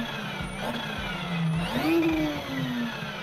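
A Milwaukee M18 drain cleaner snake spins its cable inside a pipe section, a steady motor whine that climbs in pitch partway through and holds alone at moderate loudness, no voices over it.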